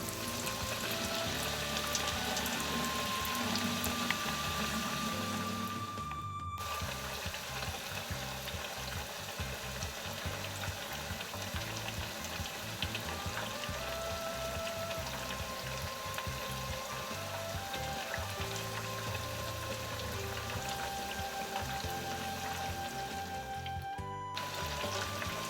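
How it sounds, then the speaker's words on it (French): Chicken tenders frying in hot oil, a continuous crackling sizzle heard up close that stays even throughout, with a faint tonal background sound drifting underneath and two brief cuts. "On continue à frire."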